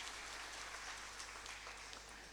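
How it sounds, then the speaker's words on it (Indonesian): Faint, distant applause from a church congregation at a Good Friday service, a steady patter of many hands clapping at once with no voices on top. "Tepuk tangan dong untuk Tuhan Yesus."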